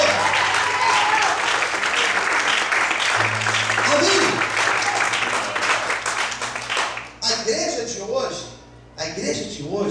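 Church congregation applauding during a sermon, loud sustained clapping that thins out near the end, where a voice calls out over the fading applause.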